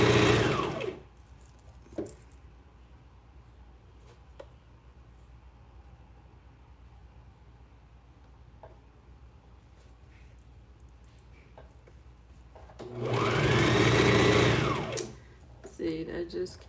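A sewing machine hems a hooded khimar, whirring loudly in a short burst at the start and a longer run near the end, with quiet stretches between and someone talking over it.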